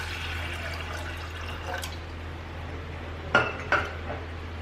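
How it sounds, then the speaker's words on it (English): Water poured into a cooking pot while making taro leaf curry in a home kitchen, a faint pouring wash followed by two sharp clinks of metal utensils against the pot. "I'm adding water."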